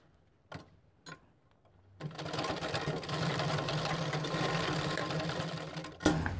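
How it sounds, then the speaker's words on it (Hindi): A sewing machine stitches elastic onto palazzo pants, with two brief clicks before the motor starts, then a steady whirring run of needle strokes and a sharp knock at the end. "पहले हम सिलाई दे देते हैं।"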